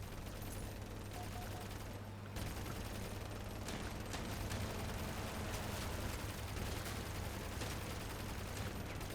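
Sustained rapid fire from an MG14 Arbiter minigun on a combat vehicle in Crossout, a dense continuous roar of gunfire with mechanical whir running steadily throughout, with a brief dip near the start.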